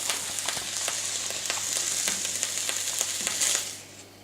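Food fries in a pan with parsley, a steady close crackling sizzle with scattered pops that fades out at the end as the heat is turned off.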